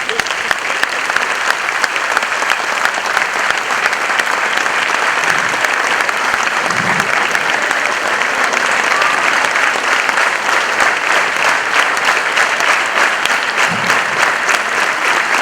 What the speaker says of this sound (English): we can all give them a big round of applause